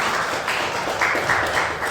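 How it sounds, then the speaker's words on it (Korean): Listeners at a monthly association meeting applaud, with sustained clapping that fills the whole moment. "큰 박수 부탁드립니다."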